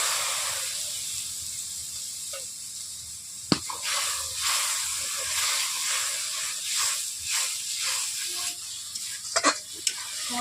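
Ground turmeric, coriander and cumin frying in a kadai for patal posto, with a splash of water added, a sharp burst of sizzle followed by steady hissing and intermittent stirring scrapes, ending in louder clattering.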